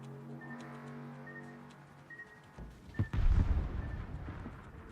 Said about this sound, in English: Oh, I turned right into these torpedoes.